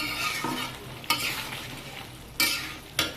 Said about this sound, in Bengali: এবার এটাকে নেড়ে চেড়ে মিশিয়ে দেব।